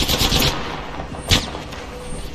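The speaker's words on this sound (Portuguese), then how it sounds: "agora estão lá de longe atirando" Distant gunfire in the battle royale game Apex Legends, a couple of short bursts of automatic fire, the first early and a sharper crack later, fairly faint against game ambience.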